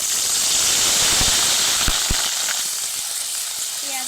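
Chopped onions sizzle loudly in hot oil, a dense, steady hiss with a few crackling pops early on that eases slightly toward the end.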